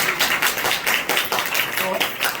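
A church congregation at a memorial service claps loudly with steady rhythmic beats, the applause filling the room and continuing throughout.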